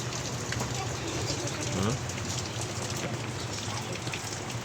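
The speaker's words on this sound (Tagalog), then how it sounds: "Pangirang araw, araw na tong ulan natin dito na walang katigil-tigil" Steady, dense rain pouring down on a vegetable garden, a continuous broadband hiss with a faint voice murmuring briefly in the background.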